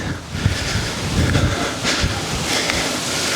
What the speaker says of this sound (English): Geez, it's windy.